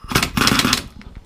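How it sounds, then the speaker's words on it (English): An impact gun undoes the alternator pulley nut on a 2005 Vauxhall Opel Vectra 1.9 CDTI, firing one loud, close, rapid hammering burst under a second long before stopping. "the easiest way of doing these is with the impact gun"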